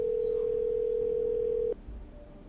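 Steady single-pitched telephone dial tone in a video game, holding loud and unbroken for nearly two seconds before cutting off abruptly into quiet line noise.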